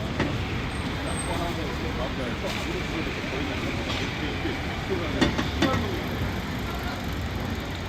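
Street traffic flows steadily through Den Den Town in Japan, a continuous outdoor road rumble of passing vehicles with occasional louder swells and faint clatter.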